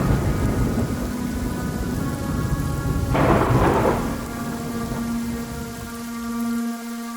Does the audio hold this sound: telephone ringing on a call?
no